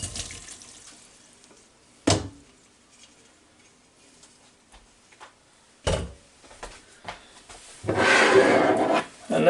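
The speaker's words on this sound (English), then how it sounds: "We're going to take this colander here and dump it right down in here." Cooked noodles and their water tipped from a colander into a bowl, heard as a short splash, then a second one, then a longer wet pour near the end, with quiet kitchen clatter in between.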